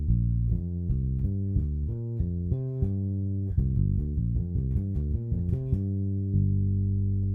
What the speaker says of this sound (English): So moving up the scale, descending on each pair, that sounds like this.